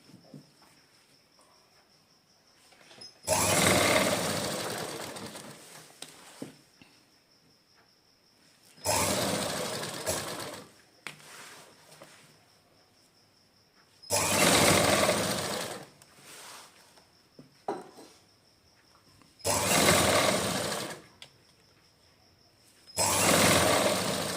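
A sewing machine stitches a garment seam in five separate bursts of a few seconds each, whirring close and steady, with quiet pauses in between while the fabric is moved.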